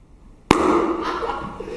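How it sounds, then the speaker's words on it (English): A single sharp firecracker bang, followed by a crackling, hissing tail and voices reacting as the sound fades. "I want you to listen to these new firecrackers me and Mr. DePinna just made."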